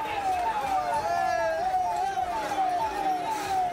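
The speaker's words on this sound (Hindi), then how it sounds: "पूरे इलाके में पुलिस के सायरन की आवाज गूंजने लगी" Police sirens wail across a Chennai neighbourhood during unrest at a political gathering, a rising and falling electronic tone repeating steadily over a wash of background noise, moderately distant.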